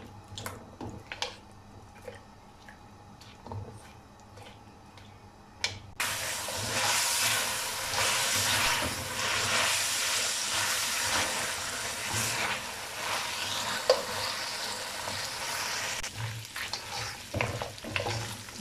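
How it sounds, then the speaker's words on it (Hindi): Mutton pieces frying in oil in an open pan: after a few soft clinks, a loud, steady broadband sizzle erupts and holds close by, with occasional stirring scrapes. "अब इसमें ऑयल डालेंगे 1 बड़ा चम्मच और 5 से 6 मिनट के लिए इसकी अच्छे तरीके से भुनाई कर लेंगे"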